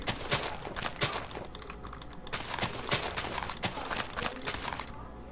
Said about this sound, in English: That's the sound of cow walks